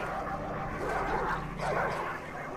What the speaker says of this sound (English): Dogs. They sound nice.